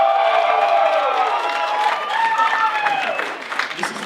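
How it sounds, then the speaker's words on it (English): A comedy show audience cheers and applauds loudly and continuously, a dense roar of voices and clapping with shrill whoops rising above it. "I need you to give your loud cheer again"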